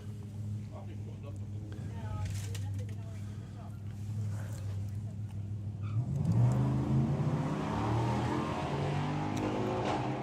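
Drag race cars, a Monster Maverick and a Corvette, at a Santa Pod drag strip: a steady engine rumble builds to a louder, rising rev midway, then holds, with commentary voices talking over it.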